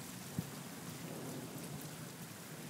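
Steady rain from a Brisbane summer storm falls continuously, heard at moderate distance, with a faint low thump from thunder; no voices.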